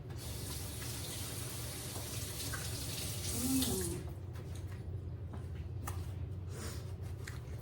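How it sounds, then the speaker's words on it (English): A kitchen tap runs in a steady faint stream while hands are washed under it, with a brief swell of splashing midway, then softer trickling and dripping. "I gotta wash my hands, y'all."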